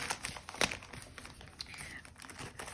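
Paper cash envelope handled close up, with soft crinkling and rustling punctuated by a few sharper crackles, quiet and without talk.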